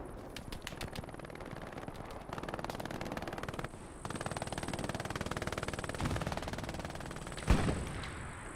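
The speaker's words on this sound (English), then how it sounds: "Hear all the rumble of gunfire in the distance." Rapid bursts of automatic gunfire rattle on and off in the video game Hell Let Loose, Battle of Kursk map, dense and continuous through most of the stretch, with a sharp louder shot near the end; no talking.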